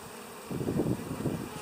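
Honey bees buzz at an open hive of a new bee operation, a brief close-up swell of dense, humming wingbeats rising from quiet.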